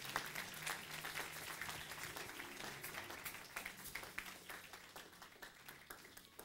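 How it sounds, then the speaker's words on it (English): Church congregation clapping hands together in worship, a dense continuous patter of many claps at a steady moderate level, with faint voices mixed underneath. "Clap your hands for Jesus."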